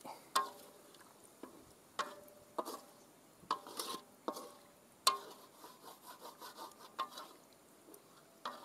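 A utensil stirs soy sauce and water in a pot over a traditional wood-fired stove, giving repeated scraping and knocking strokes in an uneven rhythm, close and moderately loud, with no talk.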